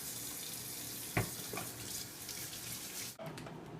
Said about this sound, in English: Wash your produce.